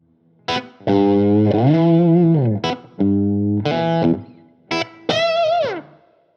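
Overdriven electric guitar through an amp pushed by a BSM RM Treble Boost pedal, with a thick tone, playing bent notes and short phrases separated by brief gaps, close and loud.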